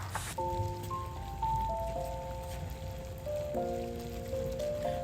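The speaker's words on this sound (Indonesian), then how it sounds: "kedengaran banget kan gimana suara mendidihnya nih dengan kompor portable kayak gini" Noodle broth boils on a portable stove with a steady, faint, rain-like crackle of bubbling, while soft music plays in the background.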